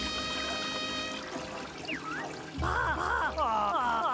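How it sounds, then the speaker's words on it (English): Flushing, gurgling water-pipe sounds in the engine-room music of Yooka-Laylee, with a sustained tone fading into a louder watery swirl and warbling tones, moderately loud and steady. "Like it's like the sound of pipes."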